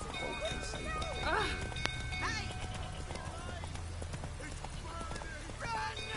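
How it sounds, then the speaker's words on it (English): Horse hooves clip-clopping in a video game, a steady trotting patter under constant background game sound, with a voice talking throughout. "I always hate running people over with a horse."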